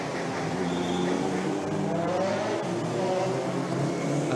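Historic rally cars racing at Circuit des Remparts street circuit, a loud, continuous roar of engines revving and accelerating close by, with a faint tire squeal.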